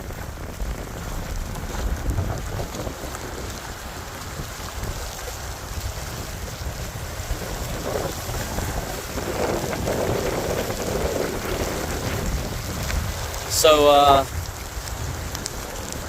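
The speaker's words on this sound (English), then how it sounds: "the wind is still steady, the rain's still steady" Steady wind and heavy rain from Tropical Storm Ophelia lashing the eastern North Carolina coast beside a pier and yard, a continuous loud rushing wash with a brief spoken word near the end.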